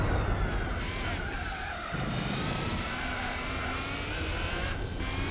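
A race car engine in Gran Turismo 4, driven at Le Mans in a triple stint: a loud, steady, high-revving whine with layered harmonics, rising and falling slightly in pitch, with a hiss of tire skidding underneath.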